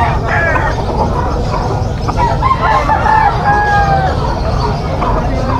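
A young rooster, a stag, crows at a busy poultry market in Malabon, its call rising over steady crowd noise and loud talk from people nearby.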